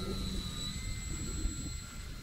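A small FT Freedom Fox V2 RC model airplane's electric motor whines at about three-quarters throttle with a thin, steady high tone, faint and distant over a low rumble of wind.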